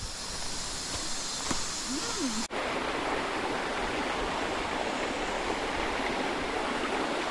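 A flowing stream in the rough, slippery terrain of Cat Ba, Vietnam rushes as a steady, full hiss of water, constant and unbroken throughout, with no voices over it.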